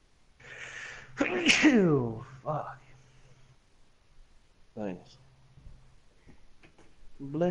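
A single sharp human sneeze bursts out early, loud and close, followed by quiet stretches with faint ticks, gasps and brief voiced sounds.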